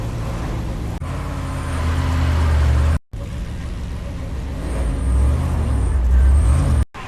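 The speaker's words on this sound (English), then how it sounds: "Still got some cars on track." Race cars running on track at Road America during a Trans Am TA2 event, a loud steady engine roar swelling and fading as cars pass, with brief cuts in the sound.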